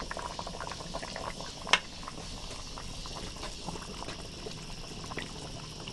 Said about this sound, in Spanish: De esta manera le agregamos un poco del jugo con todas las verduras.